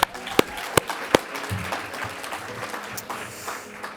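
A youth summit audience gives speakers a quick round of applause: a few sharp individual claps start it, then a softer scattered clapping continues with faint murmuring.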